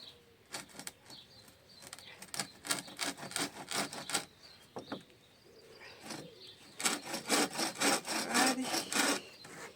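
Hand saw cutting through wood outdoors in a rural garden setting, close rhythmic rasping back-and-forth strokes in bursts with a short pause midway, fairly quiet.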